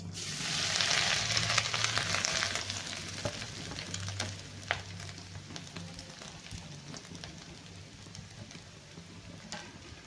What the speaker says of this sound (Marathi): आता ह्या तेलामध्ये आपल्याला खोबरं छान असं भाजून घ्यायचंय